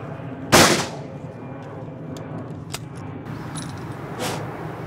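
A shotgun fires at a clay pigeon shooting ground: one loud sharp report early, a smaller distant crack later, and a softer far-off shot near the end over outdoor ambience.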